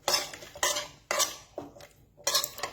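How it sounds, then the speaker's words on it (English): Utensil stirring food in olive oil in a pan, a series of scraping, clattering strokes in bursts about every half second, close and fairly loud, with a faint sizzle underneath and no talk. "And then we got some olive oil in there, see that? And just stir that."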